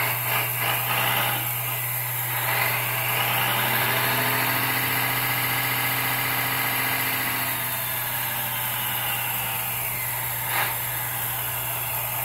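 A ready-to-run radio-controlled hydraulic excavator's proportional engine sound whirring steadily with a hydraulic whine that rises and falls, a constant electric hum underneath, no talking.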